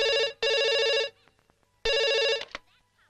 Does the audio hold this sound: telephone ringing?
yes